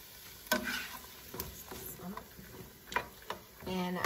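Ground turkey cooking in a pot for turkey chili: a faint, soft sizzle under intermittent spoon scrapes and knocks against the pot, with light background voice.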